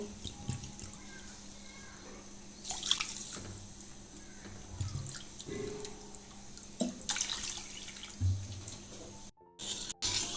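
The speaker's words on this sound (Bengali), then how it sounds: "3 বাটি জল দেব" Water is poured and run into a pot holding sugar for rasgulla syrup in a home kitchen. There are splashing and trickling bursts, pauses with clinks and handling noises, and a faint hum underneath.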